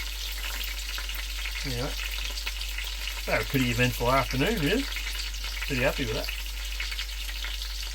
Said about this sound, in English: chops have been sizzling